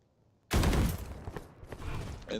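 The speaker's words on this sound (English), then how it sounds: "And the turret gets shot." Rapid burst of gunfire in a Valorant match as a deployed turret is shot, starting abruptly after a half-second of quiet, loud and dense at first, then continuing as scattered shots and clatter.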